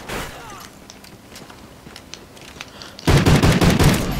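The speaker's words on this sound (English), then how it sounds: "Oh, it had rapid fire on." Rapid-fire automatic gunfire in Call of Duty Ghosts Gun Game multiplayer: faint scattered shots give way to a loud, dense, sustained burst in the final second, with a voice talking over parts of it.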